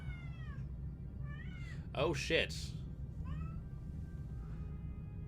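A pet cat meows several times at moderate distance over a low steady hum. A man swears briefly in the middle of the meows.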